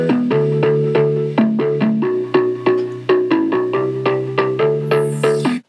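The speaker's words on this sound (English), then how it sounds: "how to make the Electro stab" Punchy electronic synth stabs repeat in a fast, choppy rhythm, shifting between a few pitches, loud and up front with no voices.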